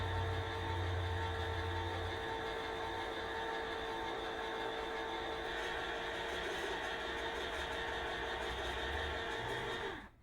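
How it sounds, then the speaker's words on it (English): An automatic can opener opening a can: a steady electric motor whir with a thin tonal whine holds nearly unchanged for about ten seconds, close by, then stops abruptly. "I have one of those automatic can openers"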